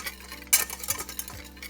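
A whisk stirs dry sugar, cocoa powder, vanilla sugar and salt in a pot, giving a short scraping swish followed by a couple of soft clinks against the metal, close and quiet.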